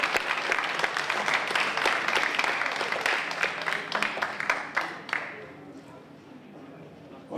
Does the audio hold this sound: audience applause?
yes